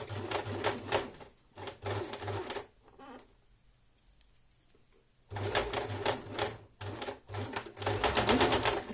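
A domestic sewing machine stitches fabric in quick, rhythmic bursts, pausing for about two seconds in the middle before running again, close and clear with no talking.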